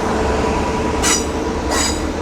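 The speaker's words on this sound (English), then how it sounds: "Departing now is your delayed 1641 LNER Zoomer service from Bradford Foster Square to London King's Cross" LNER Zoomer train pulling away from a Doncaster station platform, a steady loud rumble of the moving train with two brief high-pitched wheel squeals.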